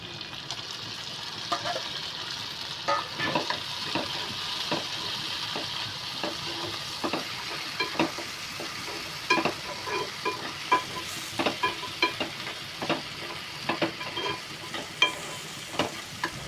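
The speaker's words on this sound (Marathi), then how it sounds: "कांदा अशा पद्धतीने तेलामध्ये फ्राय झालेला आहे आता मी यामध्ये टमाटर घालते" Onions fry in oil as tomatoes are added, with a continuous sizzle and frequent sharp spoon-on-pan scrapes and clicks while the mixture is stirred. It is close and busy throughout, and no one speaks.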